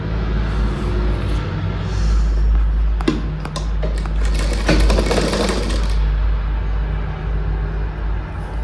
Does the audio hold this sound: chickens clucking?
no